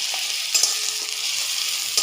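Garlic paste is stirred as it fries in a pan for a pomfret and eggplant curry, a short burst of even, close sizzling with faint scraping stir sounds and no talking.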